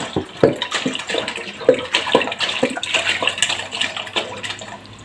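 Water poured from a bottle holding two litres into a pot for heating while making homemade yogurt, a steady close splashing stream with some clinks and knocks over about five seconds.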